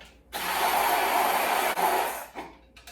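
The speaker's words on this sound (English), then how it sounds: "I like using a stick blender because it's quick." A handheld stick blender whisks egg and water, a steady loud motor whir with a brief dip midway, then it switches off and fades.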